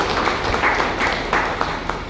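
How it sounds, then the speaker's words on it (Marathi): An audience at an award ceremony honouring a lifetime achievement recipient claps together, a brief, dense patter of applause with a few sharper claps standing out. "आपण टाळ्या वाजवून त्यांचं अभिनंदन करू."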